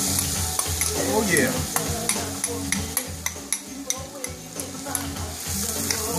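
Onions frying in coconut oil while being stirred, a steady close sizzle broken by repeated scraping and tapping of a utensil against the pan, with a brief spoken remark.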